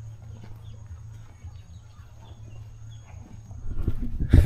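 Horses at the Kitale Nature Conservancy, a low steady rumble with faint birdsong, then louder hoof thuds and movement close by near the end.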